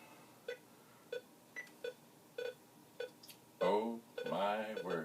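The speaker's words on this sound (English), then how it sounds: "We will hear beeping." A 1970s Pong video game console gives short, evenly spaced electronic beeps, about eight of them at irregular intervals. Faint voices murmur near the end.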